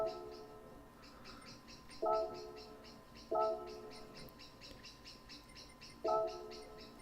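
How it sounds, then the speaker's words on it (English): Birds tweet outside an open window, with faint, steady chirping throughout and a few louder, clearer calls that stand out every second or two, heard from a short distance indoors. "Can you hear the birds tweeting behind me?"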